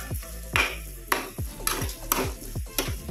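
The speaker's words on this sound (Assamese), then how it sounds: "এনেদৰে মই এতিয়া ভাজি থাকোঁ" Carrot halwa with sugar is stirred and fried in a pan, a spoon scraping and clinking against the metal in regular strokes about every half second over a soft sizzle.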